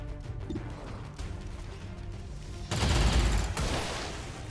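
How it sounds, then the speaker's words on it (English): Foil guns firing in the video game Long War 2, a loud sudden burst of crashing, crackling gunfire that erupts after quieter game ambience and lingers briefly. "Foil guns are very loud"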